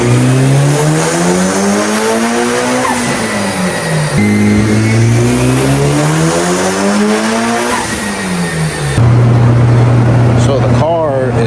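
A Mitsubishi Evo 8 with a faulty engine computer revs hard under boost, its engine note sweeping up and down in repeated loud pulls with a brief drop between them, close and dominant.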